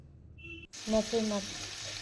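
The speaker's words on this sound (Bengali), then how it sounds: "মাছের মাথাটাকে কিন্তু একটু ভেজে নেব।" After a near-silent start, prawn heads hit hot oil and set off a sudden, bright sizzle that keeps going, with a brief voice underneath.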